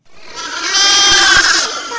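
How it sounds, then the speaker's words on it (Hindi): Cartoon goat kids bleat inside the wolf's house: a loud, sustained, wavering bleat lasting about two seconds, close and clear. "अंदर से बकरी के बच्चों की आवाजें आ रही होती हैं"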